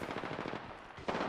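Rapid automatic gunfire in the video game Apex Legends, a dense burst of close shots lasting about a second with a brief pause before firing resumes.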